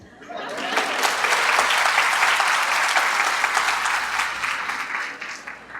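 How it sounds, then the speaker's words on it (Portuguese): Audience applause at a lecture for parents, swelling quickly into dense, loud clapping that holds steady, then thins out and fades near the end. "Aplaudo vocês."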